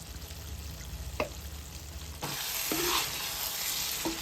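Cauliflower and chana dal curry stirred in a pan after coriander powder and garam masala go in, a soft bubbling sizzle with scraping spoon strokes and a few distinct clinks against the pan, growing slightly louder partway through.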